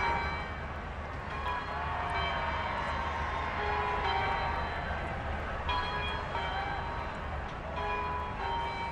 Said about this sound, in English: Listen to the bells.